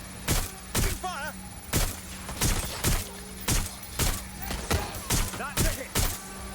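Gunfire rings out in the Watch Dogs Legion video game, a series of loud, sharp shots in an irregular but rapid cadence with short gaps, punctuated by brief chirping electronic effects, with no talking.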